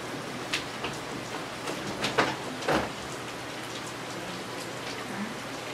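Rain falls steadily outside as a soft, even hiss, with a few louder drops and splashes standing out against the constant wash.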